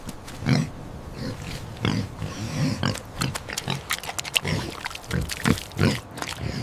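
A pig grunts and snorts repeatedly in short, close bursts, an irregular string of low oinks heard alone.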